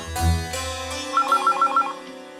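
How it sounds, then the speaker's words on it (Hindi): A telephone ringtone plays in a courtroom drama scene, a series of about five short, evenly spaced electronic rings sounding clearly over a low background hum, with no talk. "बघ, वर्षाचा फोन असेल"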